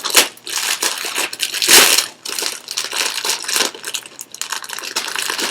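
Crinkly plastic bag holding a spinal decompression belt's instructions and extension nozzle being torn and worked open, with loud, continuous rustling and crushing bursts close by, and a sharper rip near the two-second mark.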